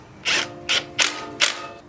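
Four quick ratcheting bursts ring out close by as 12mm brake line bolts on an RSX are tightened, each short metallic clicking run separated by brief pauses.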